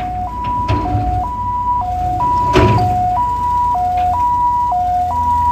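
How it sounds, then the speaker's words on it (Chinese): An ambulance siren wails loud and close at Fugang fishing harbour in Taitung, alternating steadily between two pitches over a rumbling engine and harbour background. "救护车驶进富冈渔港的停泊区，准备要将受伤的外籍渔工送往医院进行治疗"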